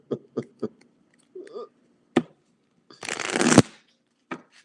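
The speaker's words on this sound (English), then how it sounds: "we shuffle the small cards to get the rest of the energy" A few soft taps and clicks, then a quick riffling burst as tarot cards are shuffled close by, followed by a final tap.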